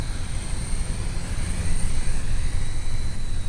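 A Radian Pro remote-controlled airplane flies overhead with a steady, continuous motor drone and broadband wind-like rush that holds level and swells slightly midway, with no voices.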